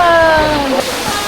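Rushing water at a waterfall on Siquijor Island roars steadily and loudly up close, a continuous wash under excited voices talking over it.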